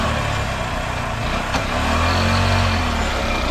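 A motorcycle fitted with an LPG gas kit idles with a steady, even engine hum, then the tone swells slightly as it revs up, heard alone at close range.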